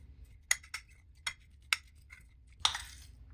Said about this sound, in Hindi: अच्छी तरह अब इसको मिक्स करेंगे